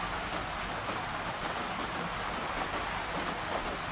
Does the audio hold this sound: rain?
yes